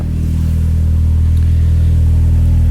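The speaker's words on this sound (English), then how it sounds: "Miltech exhaust, cold start, seems good." An Audi S3 engine idles loud and steady on a cold start with a deep, droning Miltech exhaust rumble, unbroken throughout.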